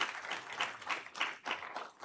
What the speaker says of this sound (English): If we could have a round of applause for the panel.